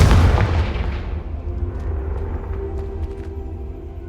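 Confringo fire spell blast in the video game Hogwarts Legacy: a loud, booming explosion at the start that rolls off into a decaying rumble, with a few faint crackles in the tail.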